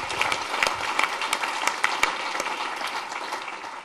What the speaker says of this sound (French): Oui, on a le droit de l'applaudir, bien sûr.